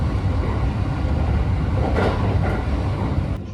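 A Joban Line train rumbles steadily from inside a carriage, a constant low roar with faint rattling, easing slightly at the very end.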